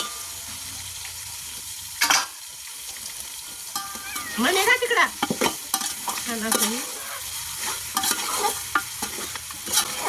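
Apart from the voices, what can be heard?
mutton frying in oil with onions, sizzling and stirring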